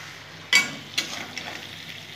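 A spoon stirs a potato and tomato curry in a pan, two sharp scrapes followed by a soft ongoing sizzle, close up and brief.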